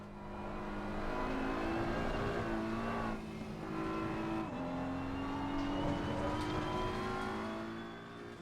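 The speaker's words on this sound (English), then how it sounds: "The next car on our list is the 2022 BMW M4 GT3. Now for a sound check." A 2022 BMW M4 GT3 race car in the game Assetto Corsa Competizione, its engine droning loud and close as revs climb steadily, dip briefly, then build again through the gears.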